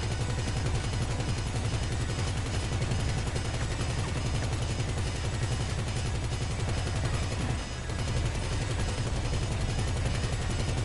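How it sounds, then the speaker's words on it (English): An enemy fires missiles in GTA V, a loud, unbroken barrage of blasts and heavy fire with a short dip in intensity partway through. "Oh shit, he's shooting missiles."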